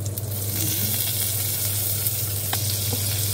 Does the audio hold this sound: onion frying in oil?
yes